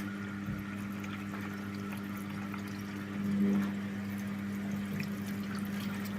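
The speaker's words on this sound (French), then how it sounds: "Et c'est de l'eau chaude." Hot water is poured into a washing machine during cleaning, making a faint, steady liquid trickle with a slight swell partway through, heard close and alone.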